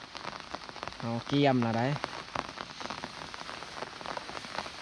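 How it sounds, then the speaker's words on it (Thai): Heavy rain pours steadily onto a surface as a dense, continuous hiss that fills the whole stretch, with a brief voice rising over it near the start. "เสียดายฝนตกตลอด"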